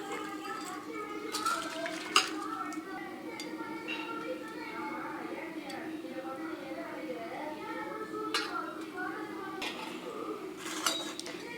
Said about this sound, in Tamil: நம்ம கத்திரிக்காய் வேகிறதுக்குள்ள நம்ம இதை வாஷ் பண்ணிடலாம்